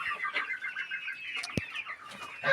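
A chicken clucks repeatedly in short, moderately close bursts, joined by a flap of wings and a sharp knock near the middle, over quiet farmyard background.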